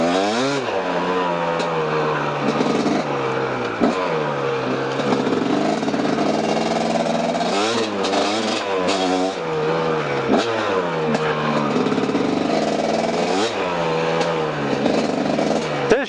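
A KTM enduro motorcycle engine runs loud and close while being ridden off-road, revving up and down steadily throughout with repeated throttle changes.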